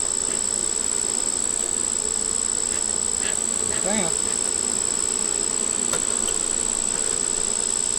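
Agitated honey bees buzz loudly and constantly at close range during a hive inspection. Someone briefly speaks over the dense drone.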